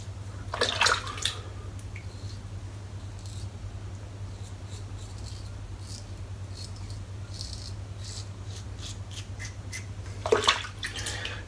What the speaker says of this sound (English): I'll just wet the face.